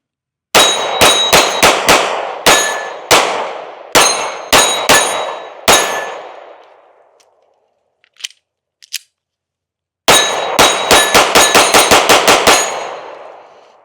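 Taurus GX2 pistol shots ring out in a rapid string of loud, sharp reports with metallic clanging echoes, followed by a quiet pause with faint clinks, then another fast burst of roughly a dozen close shots.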